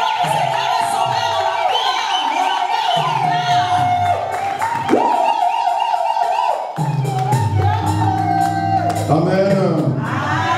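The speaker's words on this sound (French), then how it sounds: "Sous vos acclamations, j'invite l'homme de Dieu, l'apôtre Lindo." A church congregation cheers and acclaims, a dense sustained roar of shouting and whooping voices with a loud, steady level throughout, mixed with musical tones.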